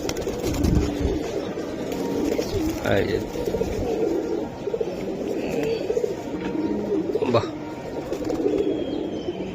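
Silver Giribaz pigeons coo softly in a loft, with low repeated calls running under ongoing conversation between men.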